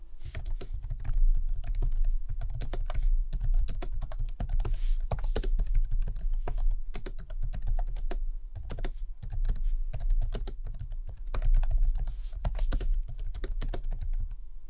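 Steady, soft clicking of a scissor-switch keyboard typed continuously at a brisk pace, close up and alone, with no voices.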